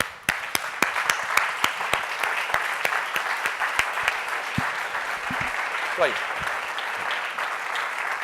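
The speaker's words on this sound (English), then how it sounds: "please stand up, give the warmest applause for Karlos Kuchkowsky." Audience at a Startup Grind event in Barcelona applauds a BBVA expert taking the stage, steady crowd clapping with sharp individual claps standing out, while a voice speaks briefly over it.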